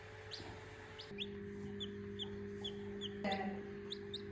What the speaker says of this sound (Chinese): 你这么爱叫，要不改名叫花鸡？